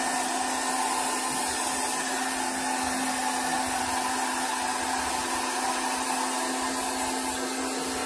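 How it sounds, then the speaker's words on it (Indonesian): A hair dryer blows steadily and loudly while drying a cat's fur during home grooming, giving a constant whining whoosh with no breaks. "Oke, selanjutnya kita hair dryer,"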